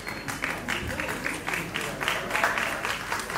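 Audience clapping at an event after a karaoke singing performance, moderately loud and continuous, with uneven bursts of hands through the whole stretch.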